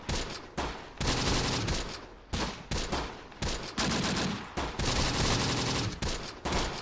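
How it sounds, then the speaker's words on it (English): Dense machine gun fire and scattered gunshots from a Close Combat wartime battle game, loud bursts rattling in overlapping volleys with brief gaps, continuous and heavy throughout. "Oh boy, that gunfire is coming in hot and heavy, man."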